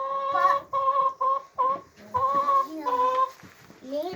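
Several chickens, including brown-headed hens, clucking close by in a string of repeated nasal calls with short gaps, growing busier and more varied toward the end.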